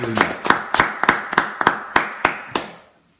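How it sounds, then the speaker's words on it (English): An audience claps in a steady, evenly spaced rhythm, about nine sharp claps in quick succession that fade out at the end, close and loud with no talk. "So let's give a round of applause to Kate."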